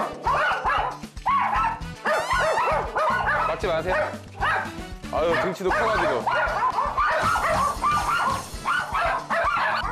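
Three excited poodle and Maltese dogs bark and yip rapidly indoors, with sharp overlapping barks and whimpers filling the whole stretch, loud and close, while people talk over the din.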